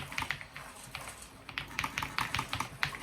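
Typing on a mechanical keyboard, irregular close clicks and taps in quick bursts, fairly quiet, with no talking.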